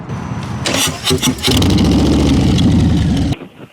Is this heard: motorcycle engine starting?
yes